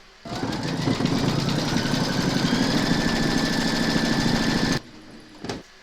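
Embroidery machine stitching a gold-thread design on a notebook cover, a fast steady mechanical whirring and rapid needle ticking that runs loud and even for several seconds, then cuts off abruptly, followed by a brief clunk.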